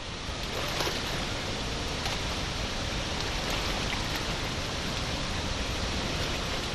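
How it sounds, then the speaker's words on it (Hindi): Girmala waterfall in Dang, over a hundred feet high and swollen after four days of heavy rain, roars as a dense, unbroken wall of rushing water, loud and steady throughout. "गिरमाला वाटरफॉल हाहाकार मचाता हुआ बह रहा है"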